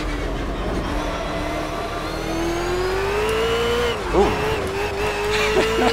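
A race car in a racing video game accelerates hard out of a corner, its engine note climbing steadily and loud, with a brief wobble near the end as throttle is eased.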